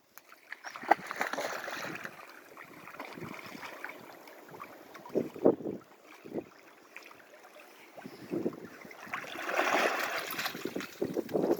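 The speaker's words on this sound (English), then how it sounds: "So I've got to get Orlando to sound a bit like a duck splashing around in the water" A dog splashing in pond water, sloshing in irregular bursts, some close and loud, with quieter stretches between and a faint breezy background.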